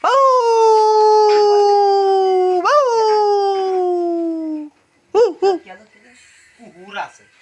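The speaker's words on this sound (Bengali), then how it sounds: "কুকুর আছে, কি আইছে দেখতেছে না, শব্দ শুনতেছিস না?" A dog lets out a long, loud howl that slowly falls in pitch for several seconds, then gives a few short, close yelps and whimpers.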